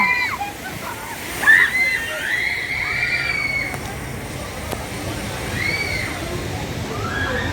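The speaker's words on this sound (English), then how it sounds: "we're going to ride the Gully washer during Fright Fest, where the water is turned blood red" Rushing, sloshing water on the Gully Washer rapids ride at Six Flags during Fright Fest, a continuous moderate wash with a few splashes and faint distant voices and cries.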